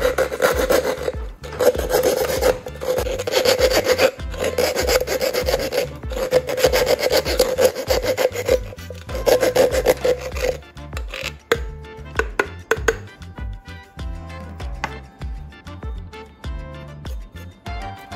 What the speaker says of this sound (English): I will smooth out the cut edge to avoid sharp edges